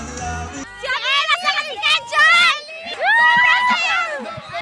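Excited fans shrieking and cheering at a Kapuso stars' live performance, high-pitched screams rising in overlapping waves with brief lulls, loud and close.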